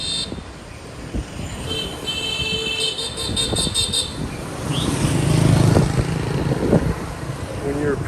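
Motorbike traffic on the town streets of Hoi An, Vietnam, heard from a bicycle: a steady roadway rumble of engines with short horn toots, growing louder toward the end.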